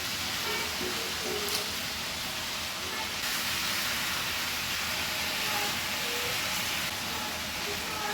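Mutton pieces frying in hot oil in a pan for a Bengali mutton curry with potatoes, giving a steady, continuous sizzle and hiss that stays close and even throughout, with no talking.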